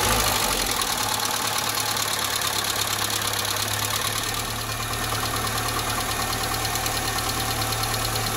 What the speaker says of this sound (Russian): Ну что, друзья, у нас Альмера готова к запуску.